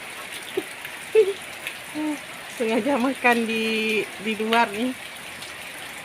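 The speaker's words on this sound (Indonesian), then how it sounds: "masih hujan nih teman-teman" Steady rain hisses down over a rural house yard on an overcast afternoon, a constant even wash of sound beneath someone talking nearby.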